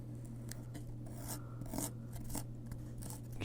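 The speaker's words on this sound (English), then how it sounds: "Maybe if I hold part of it down with this knife and cut with my X-Acto blade," X-Acto blade scraping and cutting through paper or card trim on a DIY book box, a faint, close, uneven rasping over a steady low hum.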